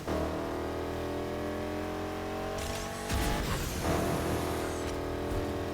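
Race cars roar continuously in a driving video game, engines holding steady tones before a burst of tire squeal and skidding midway, loud and close throughout with no talking.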